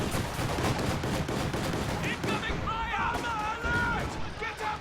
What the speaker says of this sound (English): Very first mortar that thing ever fired, and a Volksgrenadier squad dies!